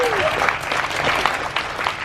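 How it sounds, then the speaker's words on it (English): A crowd applauding at a cruise ship event, loud and close, with dense continuous clapping and a host's voice talking over it. "give her another round of applause"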